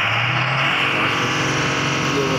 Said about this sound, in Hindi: ये जा रहा है गाड़ी, गाड़ी ये टर्न ले रहा है, पहाड़ के रास्ते के ऊपर चढ़ेगा गाड़ी ऊपर